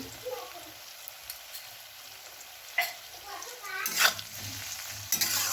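Vegetables including spring onion stems sizzle steadily with salt in a hot pan while a utensil scrapes and stirs in occasional bursts, the clatter of stirring sharper toward the end.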